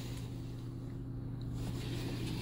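The second air conditioner fan in a Keystone Outback Ultra-Lite 291UBH travel trailer recirculates air with a steady low drone and airy hiss, unbroken and close by.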